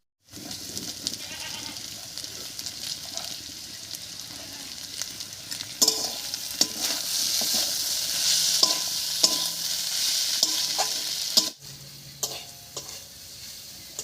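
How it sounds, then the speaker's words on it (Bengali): Chicken frying with carrots in a pan for cutlets, giving a steady sizzle and hiss, with a spoon stirring and scraping the pan in irregular strokes for about fourteen seconds. "গাজরটা বেশ কিছুক্ষণ রান্না হয়ে গেছে এবারে চিকেনটা দিচ্ছি এর উপরে"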